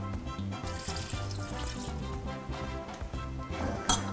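Wine poured into a stew pan already holding beef broth, a continuous close splashing and gurgling pour that carries on for a few seconds, ending with a brighter splash.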